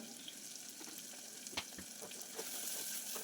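Chopped onion and tomato with salt sauté in a pan, giving a steady soft sizzle with occasional stirring clicks and scrapes, no voices.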